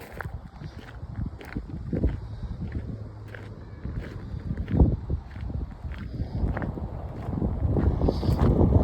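Strong gusty wind buffets the microphone outdoors at the Kyoto Imperial Palace, swelling in rough waves, with occasional footsteps crunching underneath.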